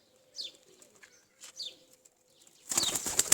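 A pigeon's wings flap in short bursts of flight, two quick clattering flurries close by, then a louder, denser burst of flapping near the end.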